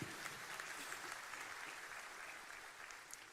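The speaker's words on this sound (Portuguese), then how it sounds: "Uma salva de palmas para vocês." Sustained applause from a church congregation, a dense wash of clapping hands that stays fairly even throughout.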